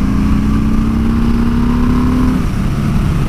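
A motorcycle cruises along the Angeles Crest Highway, a loud continuous engine drone with a steady pitch that shifts slightly, heavy wind rush, close and alone.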